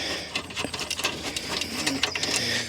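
Ratchet loosening the kidney grille fasteners on a BMW 330d, a rapid series of close, sharp clicks in uneven bursts, with no talking.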